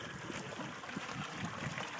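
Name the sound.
small babbling brook at Nankoweap basecamp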